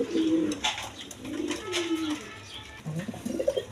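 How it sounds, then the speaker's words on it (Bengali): Racer pigeons coo close by in soft, rolling low calls, several overlapping phrases in quick succession with faint background clatter. "অরিজিনাল রেসার কবুতর"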